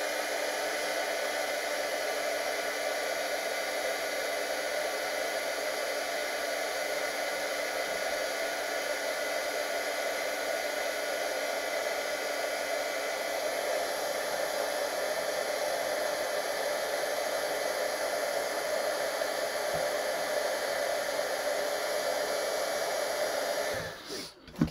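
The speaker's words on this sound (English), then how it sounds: "I'm just going to heat set this with my heat tool." A heat tool runs continuously while heat-setting embossing powder, giving a steady close-up hiss and whir of blown hot air, with no talk, cutting off abruptly at the end.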